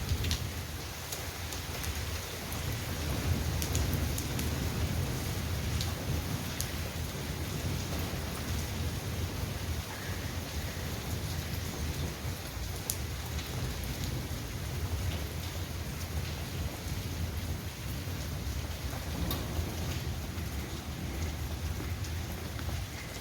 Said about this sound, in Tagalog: Mga kaibigan, umuulan ng yelo.